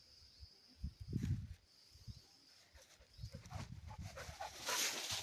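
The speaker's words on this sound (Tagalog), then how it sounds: "Aso." A dog snuffles and moves nearby in quiet outdoor surroundings, with short low huffs and soft whimpery sounds in irregular bursts under a faint high hiss.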